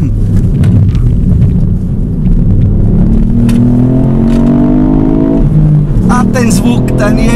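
A 2018 Ford Fiesta ST engine pulls hard under acceleration while driving, rising in pitch through the gears with a brief shift dip, loud and close, with someone speaking over the engine.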